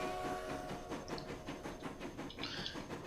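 Train running in the Transport Fever railway game, a steady rolling rumble with faint rhythmic clatter and occasional high chirp-like tones, moderately loud and continuous with no talk.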